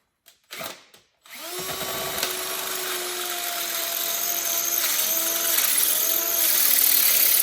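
A power drill with a smaller bit runs on broken bolts in a Cummins flywheel housing, a few short bursts and then a loud continuous whine that climbs steadily, close up.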